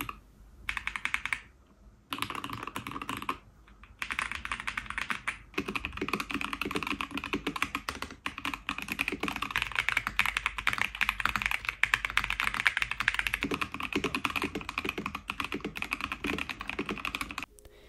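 Continuous typing on Ikki Aurora68 and Jelly Epoch mechanical keyboards, a steady dense clatter of keystrokes close up, with two brief pauses near the start.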